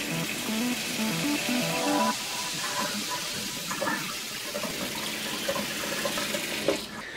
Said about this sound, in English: now I'm just going to lightly rinse the soil